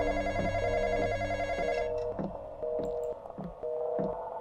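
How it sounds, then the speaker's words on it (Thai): A telephone ringing in the Roblox horror game Intruder, with a repeating electronic two-tone bell in regular bursts about every second, loud and close, trailing off as the tone thins out midway. "โทรศัพท์ดังอีก"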